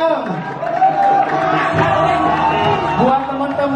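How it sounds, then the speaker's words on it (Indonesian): Hotel staff crowd at a general staff meeting in Batam applauding and cheering an employee's award, a dense roar of voices and clapping close by, sustained throughout with a whoop rising in the middle. "Beri tepuk tangan yang meriah dong!"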